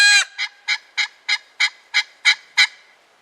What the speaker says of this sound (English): That's a shot gobble call. Use that to get him to gobble.